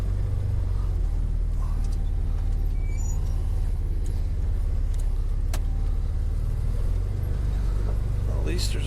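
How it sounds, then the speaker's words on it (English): A 4x4 truck crawls slowly in low-range four-wheel drive along a frozen snowy trail, its engine giving a constant low rumble throughout with occasional faint clicks and rattles, and a voice talks at times over it. "let's put her in low 4x4. We'll go nice and slow"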